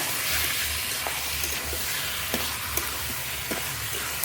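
Washed mutton, about a kilo, sizzling in a hot pan with spices while being stirred: a constant close frying hiss broken by a few soft scrapes and pops, with no voices.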